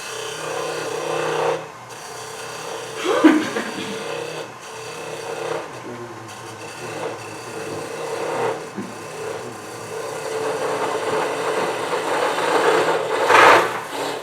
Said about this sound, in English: So I have to keep clearing the wood out below where I want to go, narrow it down, and then just start rolling the bead.